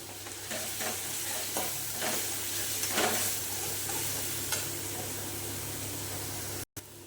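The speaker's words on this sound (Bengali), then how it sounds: "এবার এই মশলাটা দিয়ে ভালো করে কষিয়ে নেব।" Powdered spice masala frying with tomato for a rajma curry, stirred in the pan: a steady, close sizzle with repeated scraping stir strokes, cutting out briefly near the end.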